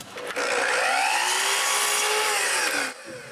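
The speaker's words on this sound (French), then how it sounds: "je retiens la boule sur le gros trou et je perce" A drill boring a hole through a wooden ball held over a larger hole, a close whining motor pitch that bends as the bit cuts, lasting about two and a half seconds before stopping.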